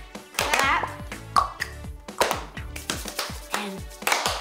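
A group of people claps together in a steady rhythm during a children's singing activity, the bursts close and even, with occasional voices in between.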